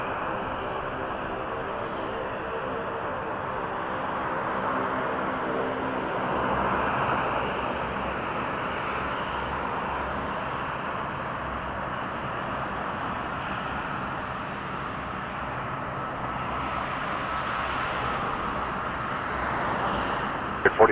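A Dash 8 turboprop on the runway at Toronto Pearson airport at night, a steady droning engine hum held at moderate distance for the whole stretch, no talking over it.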